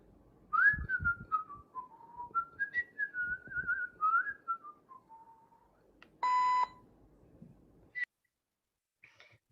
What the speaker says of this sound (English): you heard the satisfying beep